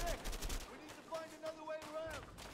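Machine gun fire in the co-op game A Way Out: rapid repeated bursts of shots at close range, with tonal game sound effects ringing between volleys.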